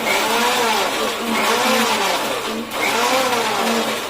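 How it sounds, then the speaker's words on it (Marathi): A mixer grinder whirs loudly and steadily, its motor pitch rising and dipping in a couple of slow cycles as it runs without pause. "कमी जास्त आपल्याला मिक्सर बंद चालू करायचं"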